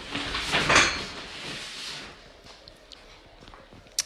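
A chair shifted across the floor indoors during a live beading tutorial, a brief scraping shuffle near the start that fades into quiet room sound with small clicks.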